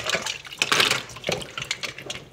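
Dirty soaking water is poured off mussels in a colander, a close splashing gush with uneven bursts of draining water and clattering shells.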